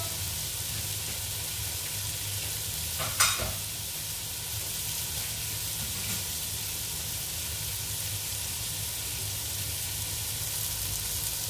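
String beans sizzle steadily in a hot pan, stir-fried with lamb meat and vegetables. A brief clatter of stirring cuts in early, then a constant close frying hiss carries on alone.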